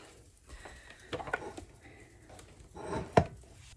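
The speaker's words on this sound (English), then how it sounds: "And I'm just chopping up some onions." Two onions being chopped on a board for a sirloin au jus sandwich, with a handful of irregular soft knife knocks and taps in a kitchen, fairly quiet and without talking.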